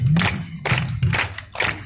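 A beach-pier crowd at Huntington Beach claps in unison, a few loud group claps spaced roughly half a second apart, with murmuring voices and low rumble underneath.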